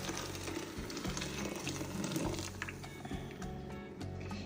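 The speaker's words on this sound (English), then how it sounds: "boiling hot water into the noodles" Boiling hot water is poured over noodles for pancit palabok, giving a soft, steady liquid splash and squish in a kitchen with no talking.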